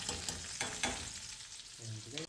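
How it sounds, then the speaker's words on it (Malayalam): Shallots with fenugreek frying in coconut oil in a clay pot, a dense crackling sizzle with a few stirring clinks, close and steady. "ഇനി ഉള്ളി നല്ലപോലെ മൂപ്പിച്ചിട്ട്"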